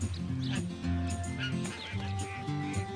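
Three cartoon rubber ducklings quack in quick repeated honks, close and fairly loud, layered over busy animated background sound.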